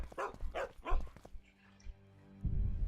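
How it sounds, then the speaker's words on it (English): A dog in the video game The Witcher 2: Assassins of Kings gives three quick, close barks, followed by a quieter whimper and then a low rumbling background. "Oh, hello, dog."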